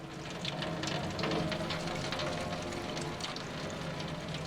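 Rain falls in a Cyberpunk Edgerunners anime episode, a dense, steady hiss with crackly patter spread evenly across the whole stretch, with no talk over it.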